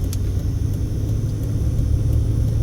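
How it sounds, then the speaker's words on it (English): Tesla Cybertruck driving past on a residential street in West Las Vegas, a steady low rumble of road and motor noise holding at an even, moderate level for the whole stretch without sharp peaks. "there's a Cybertruck, Tesla Cybertruck coming at us"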